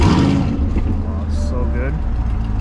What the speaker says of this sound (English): Let's start her up. That way you can hear the AWE touring exhaust.